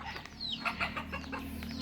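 A chicken clucks a few times close by over a low steady background hum, with a short high chick chirp mixed in.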